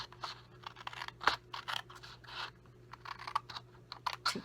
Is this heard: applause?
no